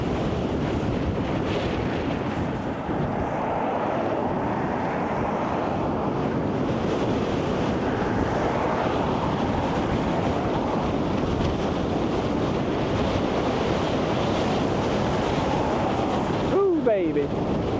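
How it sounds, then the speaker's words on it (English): Steady wind buffets the microphone beside the sea during an Arctic bike ride near Tromsø, Norway, a continuous loud roar with surf-like wash throughout. "Ooh, there's some wind."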